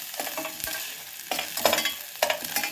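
Ingredients roast in a pan for split green gram avalakki, with a spatula scraping in about three distinct strokes over a soft continuous sizzle.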